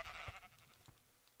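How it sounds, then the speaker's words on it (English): A Minecraft sheep gives a quiet, short bleat at the start, followed by a few faint, scattered softer traces. "Let's morph into a sheep here real quick."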